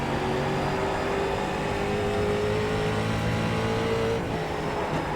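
Street stock car engine in the iRacing game at South Boston Speedway, a loud continuous roar with tonal whine shifting in pitch through throttle changes, steady throughout with no voices.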